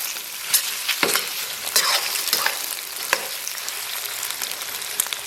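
Pork belly slices stir-fry in a wok with scallion and garlic, a loud continuous sizzle under repeated quick scrapes and tosses of a spatula, close up and without talk.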